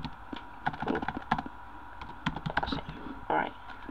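Computer keyboard keys typed in quick irregular bursts of clicks while configuring a Firefox setting, running under and between a man's speech.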